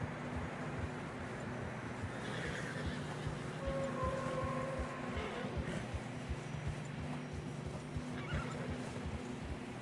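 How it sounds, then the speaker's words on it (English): Horses in Red Dead Redemption 2 trudge through fresh snow on a narrow trail, hooves clip-clopping steadily while one whinnies briefly midway, all over a low wind bed. "Horses are getting tired"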